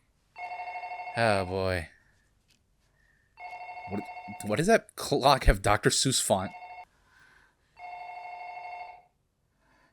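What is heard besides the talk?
telephone ringing in the film Ring (1998)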